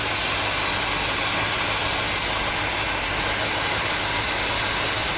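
A 1964 Cadillac engine idles steadily and loudly, a continuous broadband rumble with a low throb running unchanged throughout, close to the microphone with no talk over it.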